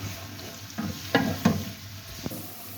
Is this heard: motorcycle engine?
no